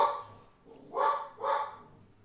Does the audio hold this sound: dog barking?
yes